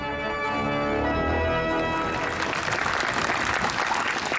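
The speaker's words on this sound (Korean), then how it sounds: "이 박수의 일부는 이 파이프 오르간을 기증한 스프레켈에게 돌려진다" Audience applause breaks out as the final sustained chords of a 4,518-pipe organ in San Diego fade away. The clapping swells into a dense, steady roar from the crowd.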